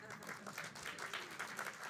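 Audience applause at a college communication arts and sciences alumni awards celebration, a steady wash of clapping from a crowd that holds at an even level throughout with some voices mixed in.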